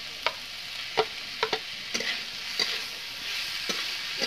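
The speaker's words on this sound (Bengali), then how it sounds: "এখন নাড়াচাড়া আমি করে নেবো," A spatula stirs a mushroom and potato curry with sattu in a frying pan, giving a soft steady sizzle broken by about a dozen sharp scraping knocks at uneven intervals, close by and with no talking.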